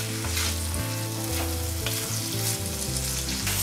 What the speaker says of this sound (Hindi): अच्छे से मिक्स कर लेंगे, थोड़ा सा इसे भुनेंगे 2-3 मिनट के लिए।